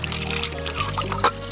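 Water pours and trickles from a camping mug for washing outdoors on a hiking trail in Turkey, a close, steady splashing stream lasting over a second.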